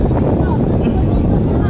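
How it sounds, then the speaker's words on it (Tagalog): Strong wind buffets the microphone at the top of an amusement park ride, a loud, steady roaring rush that fills the whole moment without pause. "Lakas ng hangin."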